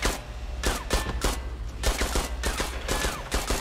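Repeated gunfire cracks sound in the Hell Let Loose WWII shooter: a fast, irregular string of loud, sharp shots, with some echoing tails, and no voice over them.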